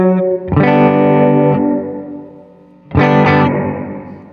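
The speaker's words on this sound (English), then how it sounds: "So that's with a higher depth and a slower rate." Two strummed electric guitar chords ring out through a Walrus Audio R1 pedal's vibrato set to high depth and slow rate, giving a wavering, distorted, loud tone that sustains and fades before the second chord.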